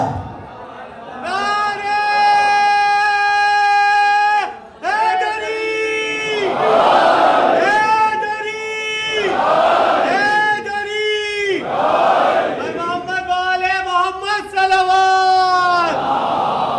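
A large crowd at a Shia majlis in an imambargah chants religious slogans in loud, sustained unison bursts, several rising calls separated by short pauses, filling the space.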